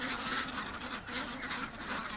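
A flock of free-range ducks quacks steadily in a dense, continuous chorus, heard from a distance above the birds without pause.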